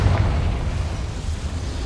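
A Confringo explosive curse from Hogwarts Legacy bursts in one loud, close blast with a deep rumbling body that stays dense for about two seconds.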